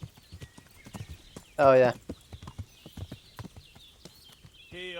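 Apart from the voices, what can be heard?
horse hooves clip-clop in Kingdom Come: Deliverance video game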